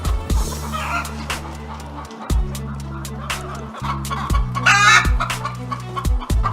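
Laying hens cluck and squawk in a dense, busy chorus on a poultry farm in Cameroon, with a rooster crowing partway through, sharp knocks and taps scattered throughout, and a low mechanical drone underneath.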